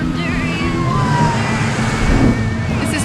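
An ambulance siren wails over steady road traffic, its rising and falling tone cutting through engine noise with voices faintly underneath.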